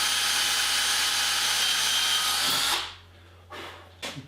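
Power drill boring tang bolt holes through metal on a Hawken rifle build, a steady loud whine for nearly three seconds that winds down, followed by two short bursts of the drill, close up.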